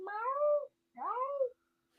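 A pet cat named Momo meows twice, each call a drawn-out, rising-then-falling cry close to the microphone, separated by a short pause in an otherwise quiet room.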